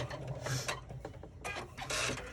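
A computerized embroidery machine stitching a zippered bag pocket pattern, giving a close, mechanical whirring and rapid needle chatter that rises and falls in bursts.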